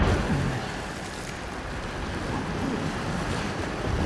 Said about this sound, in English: Oh, water's rising.